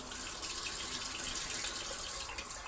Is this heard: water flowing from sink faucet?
yes